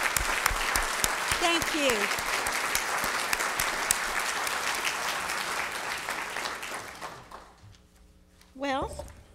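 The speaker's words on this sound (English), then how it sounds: "we want to applaud you again" An audience at a city awards program claps in a long, dense round of applause that fades out gradually. A speaker briefly talks over the clapping and again near the end.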